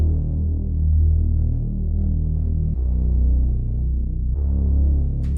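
Sub bass following the guitar's bass notes with no rhythm of its own, a deep continuous droning tone that shifts pitch twice, steady and loud throughout with no voices.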